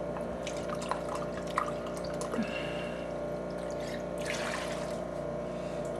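About three cups of white wine pour into a pan as poaching liquid for striped bass fish cakes, a soft, close trickle with scattered drips and no talk.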